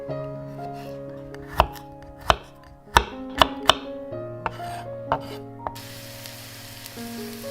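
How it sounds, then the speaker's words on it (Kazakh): Garlic is finely chopped with a knife on a board, giving about seven sharp, irregular strikes up close over soft background music and a faint sizzle. "Оны да майда етіп турап аламыз."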